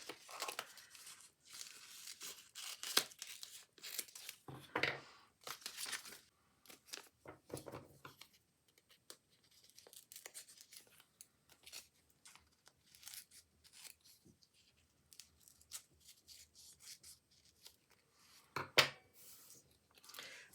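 Small scissors snipping a picture out of a sheet of paper in quiet, irregular bursts of short cuts, interspersed with light paper rustling and handling, close and soft.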